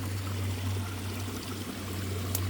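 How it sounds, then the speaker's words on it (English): Creek water flowing along a hill trail, a soft continuous rushing murmur under a steady low hum, with no talking. "where it's coming from, the creek."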